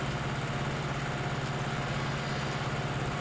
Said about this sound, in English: We are a little bit of a hill here, and it is quite a small little tractor.